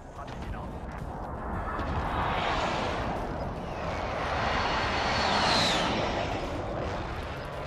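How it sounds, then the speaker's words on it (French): Jet aircraft roaring overhead during an airstrike in the video game Warzone, a broad continuous rumble that swells twice as it passes, loud and steady with no talk. "Faut une frappe aérienne dessus."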